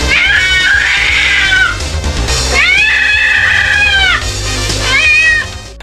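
A cat lets out loud, drawn-out screaming yowls after another cat slaps it across the face, three long wavering cries close up with brief gaps between them.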